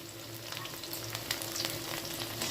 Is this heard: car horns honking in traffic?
no